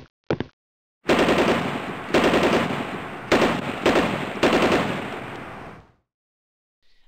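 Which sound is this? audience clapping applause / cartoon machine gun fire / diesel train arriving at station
cartoon machine gun fire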